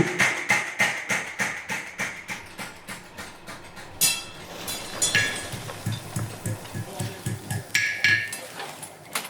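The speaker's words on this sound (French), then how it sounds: "un marteau-pilon, ça tape, et puis c'est tout." A power hammer at a forge pounds hot metal in a fast, steady run of heavy, ringing blows. The strikes pause briefly, then resume in another rhythmic burst, close and loud.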